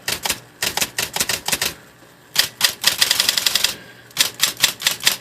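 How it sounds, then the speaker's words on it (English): Rapid bursts of Smith Corona electric portable typewriter keystrokes, close and loud, in quick runs broken by short pauses, with one longer dense flurry in the middle. "Regular typing's not too bad."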